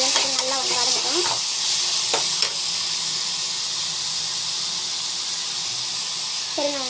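Chopped tomato sautéed in a pan with a steady frying sizzle and hiss, broken by a few short scraping stirs early on and a brief voice near the end.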